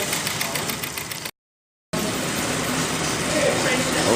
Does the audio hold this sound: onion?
no